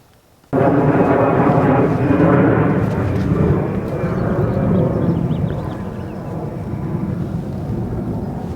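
A loud, sustained low roar of an airplane passing overhead, starting abruptly and rumbling steadily, then easing slightly toward the end.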